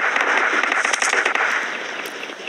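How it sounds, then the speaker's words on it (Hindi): Firecrackers burst in a rapid series of sharp crackling pops, loud and close, thinning out toward the end with no one speaking. "एक पटाखे फोड़ा था।"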